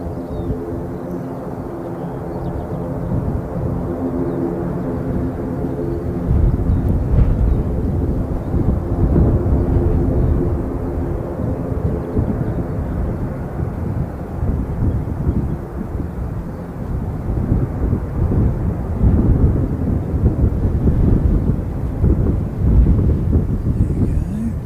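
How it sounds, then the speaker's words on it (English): A Qantas jet approaches to land, a low droning engine tone with faint whining harmonics building into a loud, rough roar mixed with wind buffeting, with no voices. "There you go, Qantas coming in."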